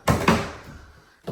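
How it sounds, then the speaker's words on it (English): Stairs creak underfoot in a house under construction: two close, quick wooden groans, a fading tail, then another creak starting at the very end. "creaky stairs."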